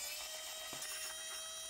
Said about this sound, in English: now we can finish them off with the electric one because it's always funner with an electric screwdriver